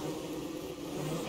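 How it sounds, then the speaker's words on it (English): Angry bees in the video game Don't Starve drone with a dense, continuous buzz that stays steady and fairly loud throughout, with no voices over it. "Oh, great, more angry bees."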